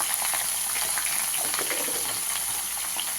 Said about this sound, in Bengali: আর লাউটা নুন হলুদ একটু মিষ্টি দিয়ে কষে নেবো